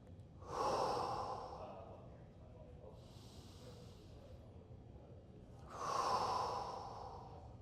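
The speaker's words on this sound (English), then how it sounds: "As I'm breathing, I'm also trying to feel my diaphragm engage." Slow, deep breaths are taken during a Foundation Training exercise, close to the mic: two strong, airy exhales come several seconds apart, with a softer breath between them in an otherwise quiet room.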